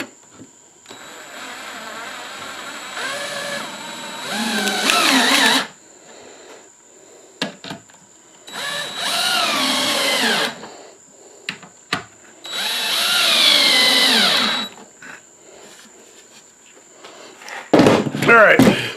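Power drill driving screws into a 3/4-inch plywood bookcase: several separate whirring bursts of a few seconds each, close by, with quiet pauses and handling noise between them.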